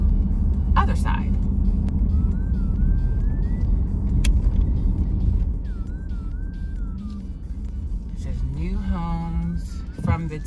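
Car driving through a new-construction neighborhood in Loganville, with a steady low road rumble and engine hum inside the cabin that eases partway through, while a person talks over it.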